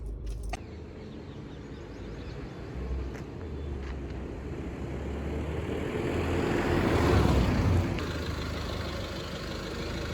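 A red Tata Altroz turbo diesel hatchback drives along, its engine a low steady drone that swells gradually toward the middle and eases off again, heard from inside with no talking.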